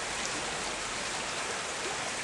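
Water pours steadily into a filter sports bottle outdoors in the woods, a continuous close splashing rush with no pauses.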